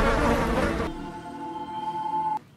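A loud, dense insect buzz fills the first second, then drops to a thinner steady drone with a sustained tone before cutting off.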